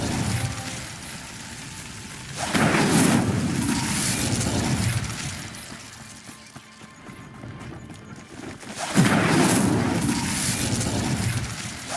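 Incendio fire spell cast in Hogwarts Legacy: two loud whooshing, crackling bursts of flame, one early and one late, with quieter rumbling and clopping noise between them.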